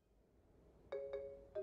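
A phone rings in the Tokimeki Memorial Girl's Side 4th Heart dating game on Switch, giving a few short electronic chime pulses that begin abruptly, soft and clean over a quiet background.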